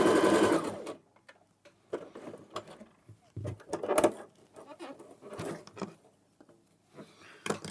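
Sewing machine stitching buttonholes in semi-automatic mode, a fast whirring patter of needle strokes that starts loud, then runs in shorter stop-and-go bursts with brief pauses between them.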